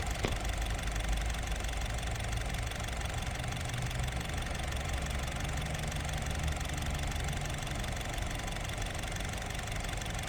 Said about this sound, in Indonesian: teman-teman bisa dengar sendiri untuk irama mesinnya